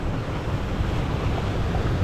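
Water rushes and splashes steadily on the Rio Grande river rapids ride at Walibi Holland, a continuous broad churning wash with wind noise and no voices.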